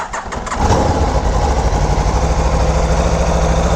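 A Ducati Panigale V4R motorcycle engine with stock exhaust cranks and fires up after a brief starter whir, then settles into a loud, steady, close-up idle that fills the rest of the moment.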